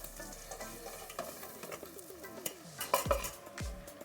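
Fish head and tail frying in oil in a pan, a low crackling sizzle under scattered utensil scrapes and clinks, close and moderately quiet, no voices.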